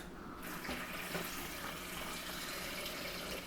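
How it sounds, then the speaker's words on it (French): Continuous rush of cold water running from a tap over cassava tubers, steady and fairly faint, with no voices. "Un couvert d'eau froide"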